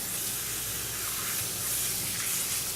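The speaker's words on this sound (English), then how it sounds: "let's wash those fingers off real fast" Water runs steadily from a kitchen sink tap as fingers are rinsed off, a continuous close hiss and splash with no talking.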